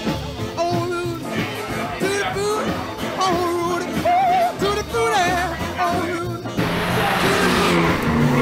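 A car at a charity racing event drifts through a corner with its engine revving, heard in the middle distance under people talking and background music; the sound swells toward the end.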